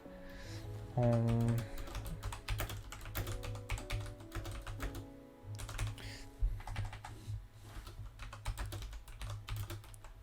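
Steady computer-keyboard typing with dense clicking keystrokes and short pauses, close and clear, under a low sustained tone at the start.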